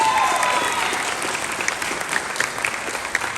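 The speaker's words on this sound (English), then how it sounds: "I love that they clap for each other" Sustained audience applause fills a school spring band concert hall, a dense steady clapping from the crowd cheering fellow student musicians, with a few louder individual claps standing out near the end.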